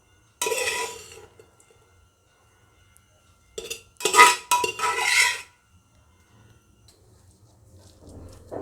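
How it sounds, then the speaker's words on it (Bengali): Boiled potato and carrot mashed with the back of a spoon on a metal plate, giving a few short scraping, clinking bursts separated by quiet gaps. "ততক্ষণে আমি আলু আর গাজরটা ওটাকে আমি মেখে নেব।"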